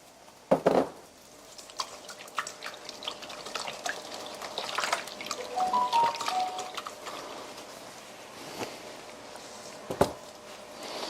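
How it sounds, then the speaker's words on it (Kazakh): Water trickles and splashes into a bowl holding two cracked eggs, a light, close liquid sound that varies through the pour, with a couple of sharper knocks near the start and end. "2 жұмыртқамызды жарып аламыз да ыдысқа, аздап су қосамыз"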